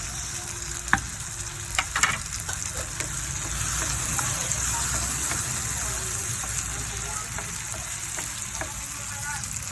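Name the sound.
tomatoes and egg frying in a pan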